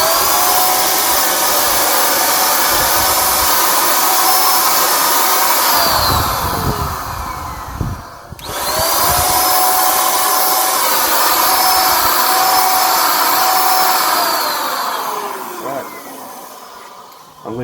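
An Ocaleb 550W handheld electric paint spray gun runs with a loud, steady motor whine that cuts out briefly and resumes, close up, with a voice talking in the background.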